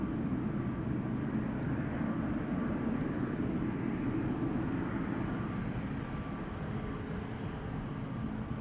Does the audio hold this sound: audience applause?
no